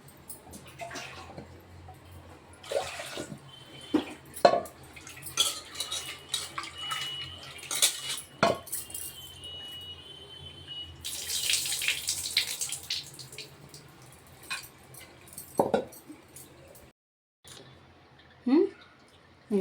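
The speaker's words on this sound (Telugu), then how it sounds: "వాటర్ కలుపుతానండి" Water runs and splashes into a pot of Andhra-style dal (pappu charu) made with tomatoes, with scattered clinks of utensils and intermittent talking, at a moderate, fairly close level.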